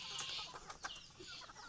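Four-month-old Rhode Island Red layer hens on a poultry farm in Assam give soft, scattered clucks, faint and close, over a quiet background hiss.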